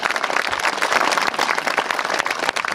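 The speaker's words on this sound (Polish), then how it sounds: "Proszę o oklaski." Crowd applause at the opening of a stadium and sports field in Wydminy, Poland, many hands clapping in a dense, lively patter, moderately loud and sustained, with no speech over it.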